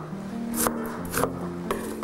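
An onion being diced into cubes on a board, with three distinct knife chops at an even pace over a low background hum.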